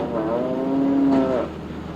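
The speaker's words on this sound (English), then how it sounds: "Eventually, milking cows, like this one, collapse from exhaustion." A dairy cow lets out a single drawn-out moo, close and clear, rising and fading over about a second and a half.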